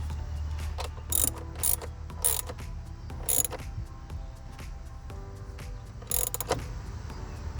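A ratchet wrench tightens bolts during installation of an oil separator on a Ram 1500, giving short bursts of quick metallic clicking separated by pauses, close and fairly quiet.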